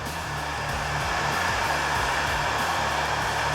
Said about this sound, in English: let's get in there with the heat gun